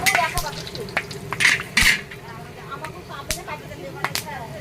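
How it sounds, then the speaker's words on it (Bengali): Three dried red chillies, cinnamon, cloves and cardamom sizzle in hot oil as tempering for a fish curry, cooked inside a festival pandal. A steady close frying hiss runs throughout, with occasional utensil clinks and stirring scrapes. "আমি এখন মাছের ঝোলে ফোড়নে দিচ্ছি 3টে শুকনো লঙ্কা, দারচিনি, লবঙ্গ, এলাচ"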